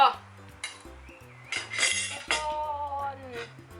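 Metal cutlery scrapes and clinks against a plate as fried chicken is cut, with uneven knocks and taps close by and no voices.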